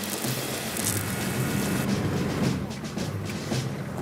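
Steady rain hisses continuously in a string trimmer advert, a dense wash of falling drops with low rumbling underneath and faint talk mixed in.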